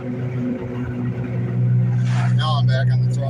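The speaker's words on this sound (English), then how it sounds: "I'm in neutral now. All that noise you hear is the wheel bearing." A car coasting in neutral with a steady low droning hum and rumble from a worn wheel bearing, while someone talks over it near the end.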